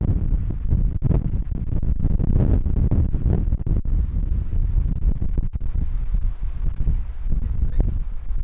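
Strong wind gusts roar across a high mountain pass on a wilderness backpacking route near Eagle Lake and Dicks Pass, a continuous loud, buffeting rush with heavy low rumble and microphone wind noise, no speech.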